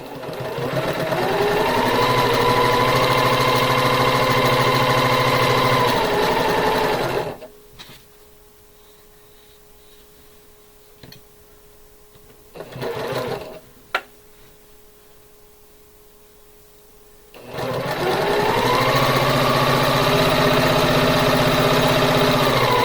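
A sewing machine stitches quilt block pieces in two loud, steady runs of rapid whirring. The runs are separated by a long quiet pause with a few soft handling clicks and fabric rustles.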